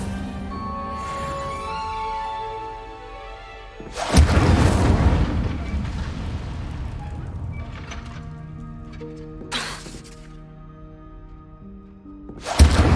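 Incendio fire spells in Hogwarts Legacy burst out as loud whooshing blasts. One comes around four seconds with a long roaring tail, and sharper bursts follow near ten and thirteen seconds over a tonal music bed.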